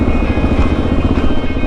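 A motorbike engine idles steadily close by during a Simpson Desert trip, a dense rumbling drone with no break for the whole short stretch.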